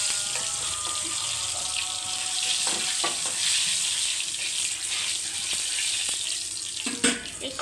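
Dried chillies and black cumin frying in hot oil for a samosa potato filling, giving a loud, dense, continuous crackling hiss with occasional clinks of a utensil, heard close and with no one speaking.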